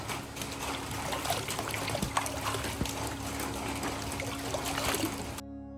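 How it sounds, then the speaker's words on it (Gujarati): Rain falls at an outdoor hot water spring near Valsad, Gujarat, a dense, even patter and trickle of drops that runs steadily at moderate distance before cutting off abruptly. "અત્યારે વરસાદ પણ પડી રહ્યો છે"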